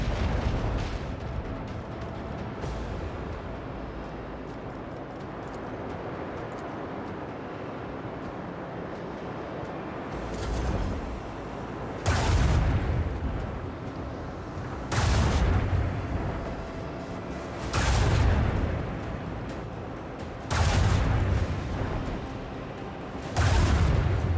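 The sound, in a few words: weapons firing in the video game Warhammer 40000: Rogue Trader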